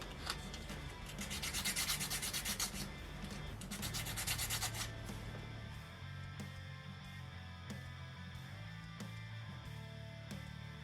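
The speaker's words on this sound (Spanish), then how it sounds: "Parece que tenemos que lijar esto un poco." Rhythmic rasping strokes of sandpaper rubbing against a wooden 3D model part, close and steady, fading into quieter scraping toward the end.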